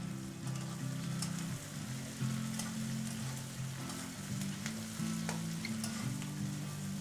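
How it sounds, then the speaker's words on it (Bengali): Onions frying in a pan for a Bengali-style chicken liver and gizzard dish, a steady close sizzle with soft crackles and occasional stirring scrapes, continuous with no voices. "পেঁয়াজটা কিছুক্ষণ ভেজে নেব"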